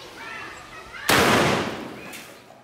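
A shotgun blast fired at a helmet: one sudden, loud broadband crack that decays over about a second, with quieter background noise before and a faint trailing tone after.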